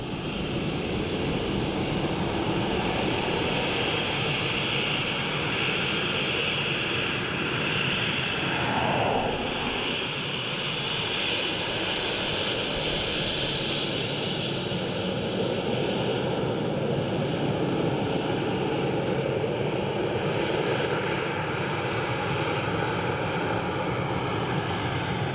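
A steady, loud roar of an aircraft engine at Dublin Airport running continuously with a broad rushing hiss, like a propeller plane heard up close.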